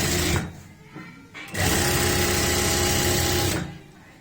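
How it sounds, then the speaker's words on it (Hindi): A sewing machine stitches a long seam on palazzo pants, with a short run, a pause, then a steady loud whir for about two seconds close by. "तो हम ऊपर से ही नीचे तक सिलाई खींच देंगे ऐसे।"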